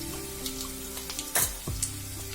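A crushed paste of green chili, ginger and garlic, with turmeric, dropped into a hot pan with oil and curry leaves, bringing a steady sizzle and a couple of sharp splattering bursts as ingredients land, with a low hum underneath.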